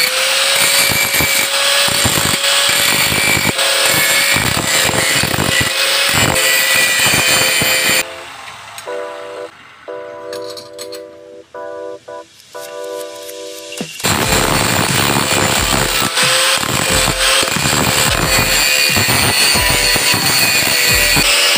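An angle grinder grinding off excess welds on a metal frame for a homemade water tank float valve, loud and close with a harsh whine, pausing midway as the disc spins down before cutting back in at full force.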